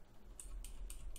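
A mechanical keyboard gives four or five crisp, close clicks in an uneven rhythm over a faint low hum, with no talk.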